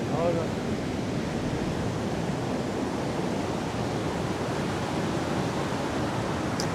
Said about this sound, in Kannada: ಅಲ್ಲೊಂದು ಕಲ್ ಮೇಲೆ ನೀರು ಬಿದ್ದು ಮಿನಿ ವಾಟರ್ ಫಾಲ್ಸ್ ಥರ ಆಗ್ತಾಯಿದೆ